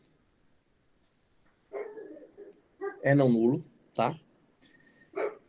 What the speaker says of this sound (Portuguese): Vocês percebem que tem um cachorro latindo aqui